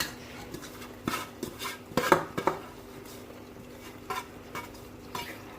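A spoon stirs aloo gobi matar curry in a metal pot, with irregular scraping and clanks against the pot and a faint sizzle underneath, close by and with no talking.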